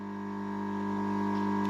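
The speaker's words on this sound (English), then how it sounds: "I should have talked a bit louder because the air pump's a bit loud." A koi pond air pump runs with a steady, loud electric hum, constant tone and no variation, close by and alone.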